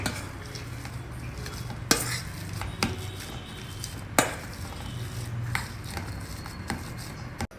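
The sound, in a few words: mashing boiled peeled potatoes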